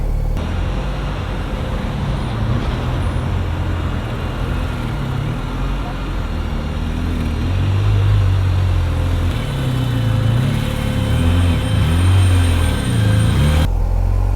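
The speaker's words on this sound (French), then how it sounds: "Je me dis, la moto, elle va pas caler." A French CRS police motorcycle engine drones steadily while riding through traffic, its low hum swelling as the revs rise midway, with a rider talking over it.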